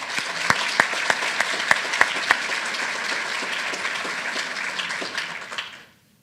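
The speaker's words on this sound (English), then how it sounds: "And I think that all of them deserve a round of applause right now." Audience applause at a talk on tattooing heritage, with several loud close claps at the start over a steady wash of clapping that fades out at the end.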